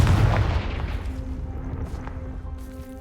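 A Confringo blasting spell in Hogwarts Legacy goes off as a single deep, booming explosion right at the start, then fades into a lingering rumble and faint ringing tail.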